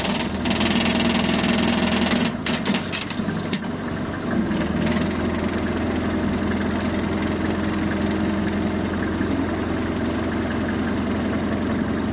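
A homemade tractor's engine idles steadily and loudly nearby, a continuous low rumbling drone with some mechanical vibration and a few brief clanks early on.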